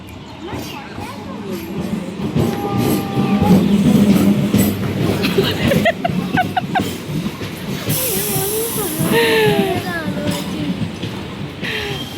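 A train pulling into a station: a loud, steady rumble of rolling wagons, with hissing and brief high wheel squeals, and people's voices in the crowd around it.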